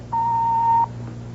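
An answering machine gives a single steady electronic beep just under a second long, clear and close over a faint hum, signalling the start of message recording.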